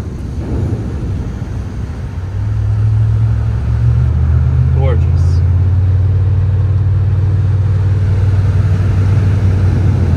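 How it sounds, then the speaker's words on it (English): Chevrolet Trailblazer SS engine accelerating as the gas is pressed, a loud low rumble that swells after a couple of seconds and holds steady, heard from inside the cabin. "Get on the gas a little here."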